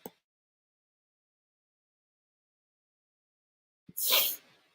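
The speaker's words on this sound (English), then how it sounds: "I have to sneeze." A single sharp sneeze bursts out near the end after a long silence, loud and close, preceded by a brief intake of breath.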